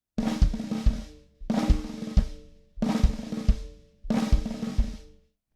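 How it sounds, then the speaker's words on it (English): Four repeated buzzed snare-roll phrases with a bass drum thump on the 'e' of beat four, close and loud, each phrase ending in a short gap of silence. "Now I'm going to add the bass drum on the E of 4, and it's going to sound like this."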